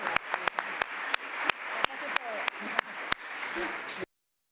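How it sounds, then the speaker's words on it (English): Applause for three panelists at the close of a live-streamed discussion, a sparse round of clapping from a modest audience with a few sharp, louder claps standing out near the microphone before it stops abruptly. "I would like to give a round of applause to the three panelists"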